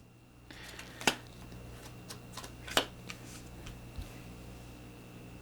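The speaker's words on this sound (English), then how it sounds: "Deal 3 junk cards face up." Cards for the Junk Art board game are dealt onto a table, giving two sharp, brief snaps about a second and a half apart and a few softer slides and taps, close and quiet over a faint steady hum.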